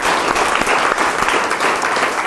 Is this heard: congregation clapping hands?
yes